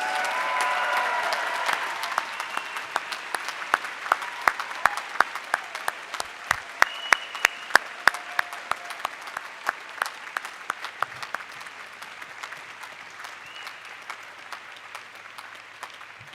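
Applause from the audience congratulating the newest graduating class at a 2018 CICS senior celebration, starting as a full burst and thinning into scattered individual claps that continue at a moderate distance.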